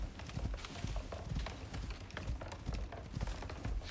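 A horse trots close by in the survival game Icarus, its hooves striking in a quick, steady clip-clop rhythm throughout, fairly loud over a soft ambient background.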